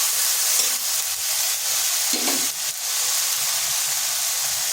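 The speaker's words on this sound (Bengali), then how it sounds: "এই মশলাটার সাথে টমেটোটা একটু কষে নিচ্ছি" Tomato and ginger-tomato paste sautéed with a spice mix in a pan for a vegetarian potol and pumpkin dish, giving a continuous loud sizzle with a brief stirring scrape partway through.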